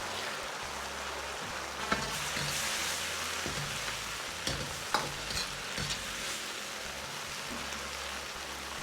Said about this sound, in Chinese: 然后盖上锅盖，保持中小火焖至2分钟。